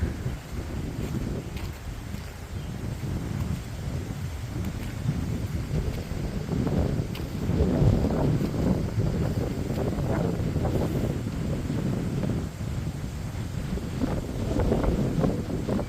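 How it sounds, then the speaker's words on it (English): Steady outdoor wind just after a storm buffets the microphone, a continuous rushing and rumbling with gusts swelling and easing over sixteen seconds, with no voices. "Still windy, but not as bad as just before the storm hit."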